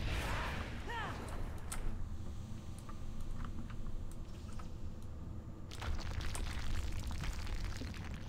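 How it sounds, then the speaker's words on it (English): World of Warcraft explosions thump and burst at a couple of points against a busy, continuous backdrop of game effects, with faint voices underneath. "They were really tiny explosions as well."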